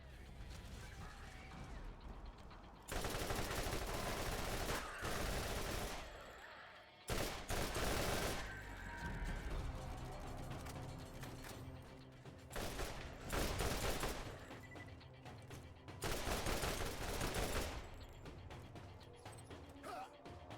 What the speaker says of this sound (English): I was finding myself using weapons that had a really fast fire rate